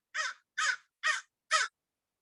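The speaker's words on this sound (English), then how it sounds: "Maybe the sound of the crows becomes just a little less annoying." Four harsh crow caws ring out in an even rhythm against silence, each one short and fairly close.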